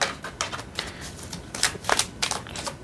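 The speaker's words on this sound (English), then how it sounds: "Last shuffle." Tarot cards shuffled by hand during a reading, a brief run of crisp riffling snaps and flutters in quick irregular bursts, close and fairly loud, with no voices.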